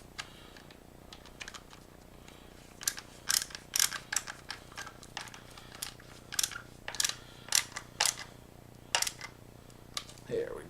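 A flathead screwdriver tightens a screw on a collapsible gun stock, giving a run of sharp, close clicks and ratcheting creaks in irregular bursts over a quiet background.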